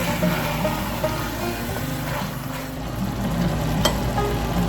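Extra lean ground beef sizzles and fries in a pan for chili, a dense continuous crackle close up with faint stirring scrapes and a brief clink near the end.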